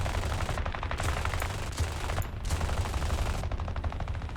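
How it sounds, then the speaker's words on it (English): A bomber's defensive gunners fire machine guns in the War Thunder flight game, rapid continuous bursts with short gaps, loud and dense over the droning aircraft. "My gunners open up on them as I continue to dive."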